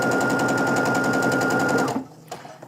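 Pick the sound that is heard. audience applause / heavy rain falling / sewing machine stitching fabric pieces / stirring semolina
sewing machine stitching fabric pieces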